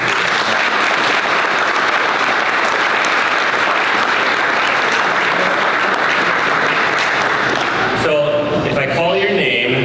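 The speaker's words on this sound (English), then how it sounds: "Please, a round of applause for us." Audience applause at an innovation awards ceremony, sustained and dense for about eight seconds before breaking off, followed by a voice talking.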